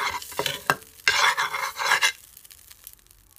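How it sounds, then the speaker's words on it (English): Butter melts in a pot on a stove at medium heat before pancake batter goes in, with close bursts of sizzling and stirring that fade to a quieter hiss after about two seconds. "So I'm just gonna add some butter to it."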